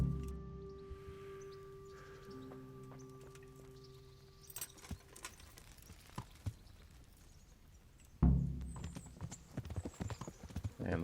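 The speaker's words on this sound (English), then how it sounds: "final horse ride to end this game." Horse hooves clip-clopping at a steady walking rhythm during a ride in Kingdom Come: Deliverance, moderately close, growing louder and busier toward the end.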